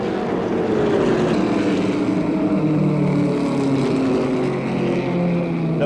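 A pack of NASCAR Winston Cup stock cars at Talladega in 1980 circling slowly at reduced speed under caution, a steady droning engine rumble with gradual pitch shifts as cars pass, continuous and moderately loud.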